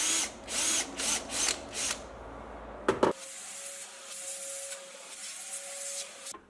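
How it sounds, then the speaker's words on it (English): An electric drill bores into a metal lathe part in several short pulses, followed by a sharp clunk and a steady, fainter whine as the drilling runs on alone. "Now I just need to drill and tap some threads again to mount this"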